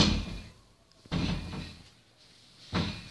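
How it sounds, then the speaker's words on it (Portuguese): A door in a bedroom of a new house moves and bangs shut twice, with sharp impacts separated by a quiet stretch of creaking movement, fairly close and with no talking over it. "Gente, tá mexendo a porta."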